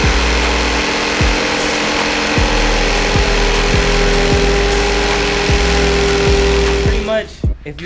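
A power saw cuts a traced piece for a custom Cadillac part, buzzing loudly and continuously with a regular chopping pulse from the blade strokes, then winding down and stopping near the end.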